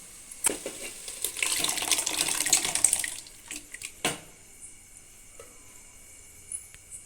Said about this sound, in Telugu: పప్పు చింతపండు రసాన్ని కూరగాయ ముక్కల్లో వేసుకుందాం